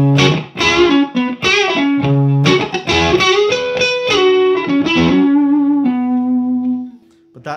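Electric guitar played through a Two Rock amp with a bluesy tone: a quick run of picked notes and chords, then a held note that rings out and decays, loud and close with no other sound.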